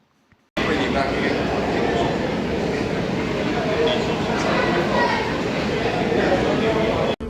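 Steady rumbling rattle of a London Underground District Line train in motion, loud and continuous, with faint chatter of passengers mixed into the din.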